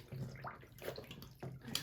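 Canvas sneakers being lowered into a basin of soapy water to soak, with soft close splashes and sloshing in short bursts, fairly quiet and without talk.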